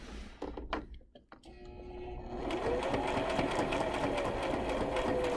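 A sewing machine stitches a fabric seam, starting with a few separate clunks and short bursts, then running into a steady, fast, close mechanical whirring chatter.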